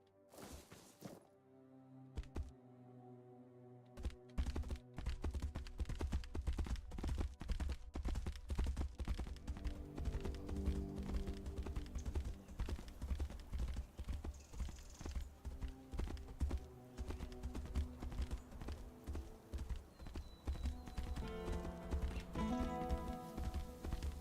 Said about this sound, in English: Horse, I summon you.